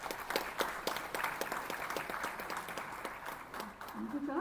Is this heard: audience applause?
yes